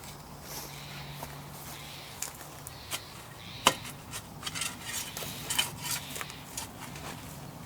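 A spade digs into garden soil around a potted rose bush, with scattered scraping and crunching strokes and a few sharp knocks, close and fairly quiet, with no talk.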